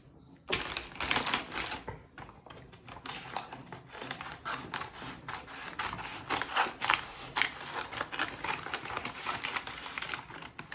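Scissors snip through the packaging of a set of sample paper books in quick, irregular bursts of close, crisp clicks and cuts that run steadily throughout.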